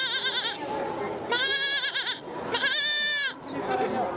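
A girl imitates a goat with her voice, giving three loud, wavering nasal bleats close to the mic, separated by brief pauses.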